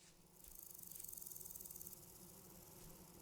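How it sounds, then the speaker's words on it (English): Bees swarm in the video game Vintage Story, making a thin, steady buzzing drone with a quick rattling pulse that rises and fades. The sound is soft and slightly distant, with no voices. "Listen to all the bees."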